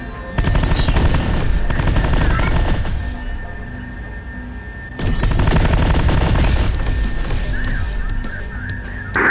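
Loud, close video game gunfire in two long sustained bursts of rapid automatic shots, separated by a short lull, with faint game effects between them.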